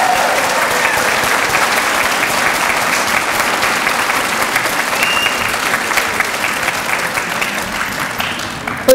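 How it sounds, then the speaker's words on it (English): Sustained audience applause for nurse aide, EMT and emergency dispatch graduates at a recognition ceremony, a steady dense crowd clapping lasting the full nine seconds at an even, loud level. "let's give them another round of applause"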